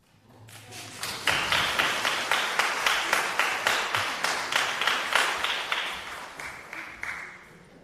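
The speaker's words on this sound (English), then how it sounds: "I always give him a huge round of applause when he comes." A concert audience gives a round of applause, swelling quickly into a steady, even clapping and then thinning out toward the end, moderately distant in a hall.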